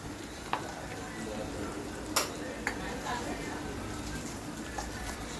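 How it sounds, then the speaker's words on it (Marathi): Vegetables with spices, salt, coriander-cumin powder, chilli and sambar masala being stirred in a pan, with a soft sizzle throughout and a few sharp clinks of the spoon against the pan. "फिरवून घ्या सगळं छान असं."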